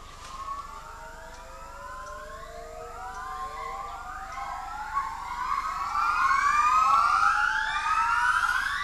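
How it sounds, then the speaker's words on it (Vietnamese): Wild gibbons give territorial songs in the morning, a chorus of rising, whooping tonal calls that build and overlap, swelling louder toward the end against a steady forest background. "những con trưởng thành lại thi hát để cảnh báo những đàn vượn hàng xóm giữ khoảng cách"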